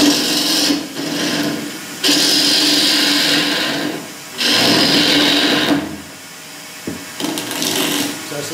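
Turning tool cutting laburnum wood on a lathe, shaping a natural-edge vessel: a loud, steady scraping rasp in long sustained passes, broken by brief pauses as the tool lifts away.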